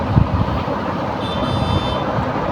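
Traffic jam behind a truck on a road, with a dense rumble of idling engines and passing vehicles close by, a couple of thumps early on, and a faint high tonal whine partway through.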